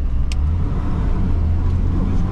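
A 1973 VAZ 2102 car engine drones steadily while driving, heard from inside the cabin as a loud, continuous low rumble mixed with road noise, with no clear changes in pace.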